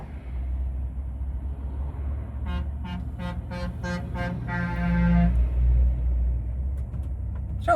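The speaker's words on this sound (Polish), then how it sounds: "Czemu wojsko na mnie trąbi?" Several short toots from a military vehicle's horn in a quick series, then one longer blast, over a steady low traffic rumble nearby at night.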